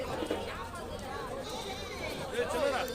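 Goats bleat a few times amid a noisy crowd at a sheep and goat market in Angallu, with people chatting over the animals throughout.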